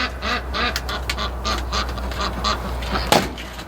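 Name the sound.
ducks quacking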